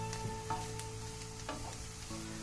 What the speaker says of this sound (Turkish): Soğan ve sarımsak kavruluyor.